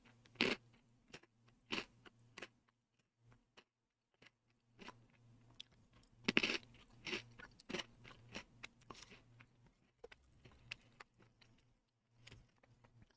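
Banana Pocky sticks, chocolate-coated and close to their expiration date, crunched and chewed close to the mic in a string of sharp irregular crisp bites, quiet overall with no talking.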